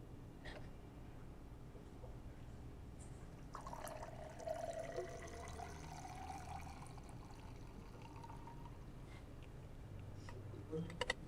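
A cocktail being poured through a hawthorn strainer over ice, a soft steady trickle of liquid with faint splashing and clinks, quiet and continuous against low room noise.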